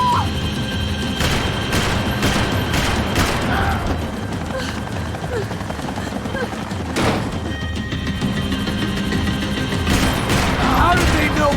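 Rapid bursts of gunfire in Max Payne 3, sharp repeated shots and booming impacts crackling throughout a chaotic firefight, with shouting voices mixed in.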